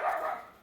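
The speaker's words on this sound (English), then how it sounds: "That's my dog barking again." A dog gives a single short bark indoors, fairly close, followed by a brief faint yip.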